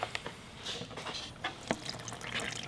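Water is poured into Prism grout mix in a bucket, giving a faint, uneven splashing trickle with small drips and sloshes.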